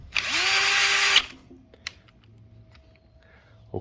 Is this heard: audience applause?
no